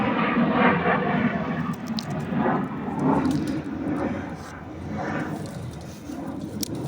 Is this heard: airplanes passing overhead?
yes